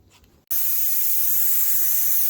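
After a brief quiet moment, a loud, steady hiss of steam bursts out of a pot steaming mustard greens and continues evenly without letting up.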